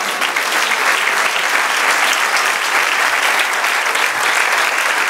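A church congregation claps in praise, a loud, dense, continuous wash of applause sustained evenly from start to finish.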